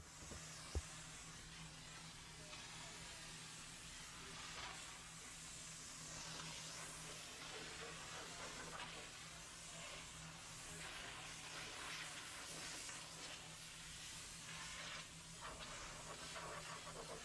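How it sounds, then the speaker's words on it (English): A steady, quiet hiss of steam spraying continuously, with no pauses and no talking. "we're going to mist it with a rinseless wash, and we're going to steam it down"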